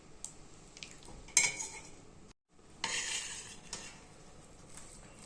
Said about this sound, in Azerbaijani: Bunları bir-birinə yedirdirəm.